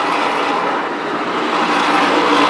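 A pack of modified race cars roars past on a half-mile concrete oval track during a feature race, a dense, loud, continuous engine drone filling the air.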